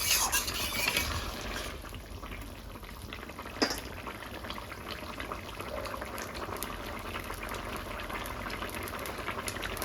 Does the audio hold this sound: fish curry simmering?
yes